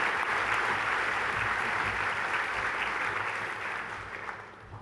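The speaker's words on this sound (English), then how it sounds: "can you please give our finalists a big round of applause" An audience at an education awards presentation applauds the finalists with steady, dense clapping that holds loud and even before tapering slightly at the end.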